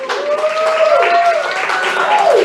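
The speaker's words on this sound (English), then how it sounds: "clap it up for me, clap it up for me" An audience applauds at a comedy show, steady clapping and crowd noise running throughout beneath someone talking loudly over it.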